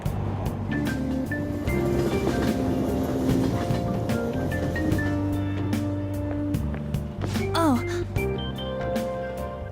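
Subway train ride ambience from the Persona 5 video game: a steady rumble of the moving train with rhythmic clacks and a rising-falling whine, layered under continuous background music.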